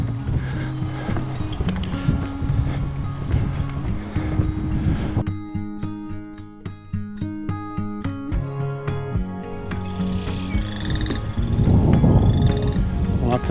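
Frogs in a marsh croaking in a dense, continuous chorus of pulsing, rhythmic calls, some close and loud, others layered farther off, with a brief rustle near the end.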